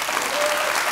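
Audience applause at a Catalan book event, a dense steady clatter of many hands clapping, loud and continuous throughout the brief moment.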